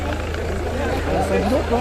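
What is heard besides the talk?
helicopter hovering overhead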